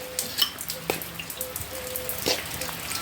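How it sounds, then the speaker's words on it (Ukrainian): Sauerkraut being added to a pot of nearly cooked meat for Polish cabbage soup, giving a steady crackling sizzle with a few wet splats and clicks, close by and continuous. "І на цьому етапі ми додаємо нашу квашену е, капусточку."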